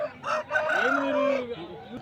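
A rooster at the Nallapadu village chicken market gives a single full crow, loud and close, lasting about two seconds with faint background murmur.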